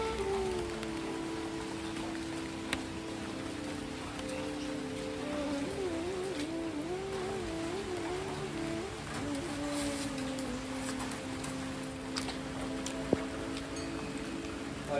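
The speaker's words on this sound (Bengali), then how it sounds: "এই বৃষ্টির অপেক্ষায় আর কতক্ষণ বসে থাকবো বলো" Steady rain falls continuously, a dense, even hiss of drops on surfaces, with faint tonal sounds drifting in the background.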